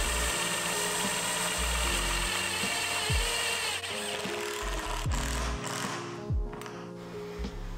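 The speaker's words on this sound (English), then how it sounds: "I'm also securing it in with self-tapping metal screws" A power drill drives self-tapping metal screws into a camper conversion build, its motor whirring up and down in several short bursts with ratcheting, grinding pauses between them, close and moderately loud.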